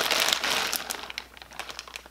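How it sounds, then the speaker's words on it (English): A clothing shipping package is torn open by hand without scissors, close crinkling and ripping of plastic, a dense burst at first, then scattered crackles. "I'm just gonna rip a hole in it because I don't have scissors right now."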